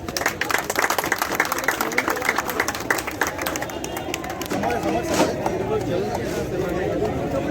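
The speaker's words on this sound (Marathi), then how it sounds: "म्हणजे जोरदार टाळ्या." Applause at a village cricket tournament prize ceremony rises as scattered claps from an outdoor crowd, continuing steadily beneath an announcer speaking over a loudspeaker.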